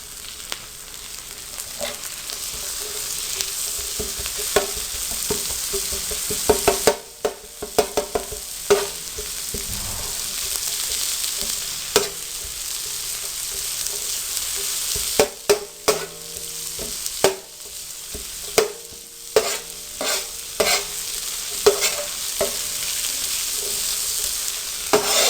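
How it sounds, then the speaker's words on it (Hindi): Capsicum (bell pepper) frying in a pan for tawa pulao, a continuous close sizzle with repeated scraping and clattering of a spatula stirring throughout. "चंद सेकंड के लिए आपने शिमला मिर्च को फ्राई करना है"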